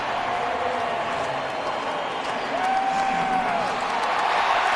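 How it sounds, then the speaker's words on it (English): A large stadium crowd at a Seahawks home game against the Dallas Cowboys roars after a fumble on the opening kickoff, a sustained broad cheer that swells louder toward the end. "Now this crowd is energized."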